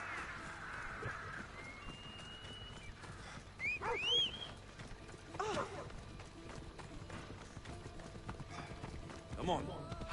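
A horse gallops in Assassin's Creed Odyssey with rhythmic hoofbeat clip-clops, game effects and occasional louder thumps mixed in, while a voice talks over it.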